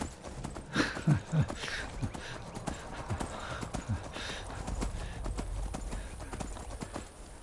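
A horse galloping in Skyrim on PS5, rapid hoof clip-clops in uneven bursts, fairly close, with a brief snort and someone talking over the hoofbeats.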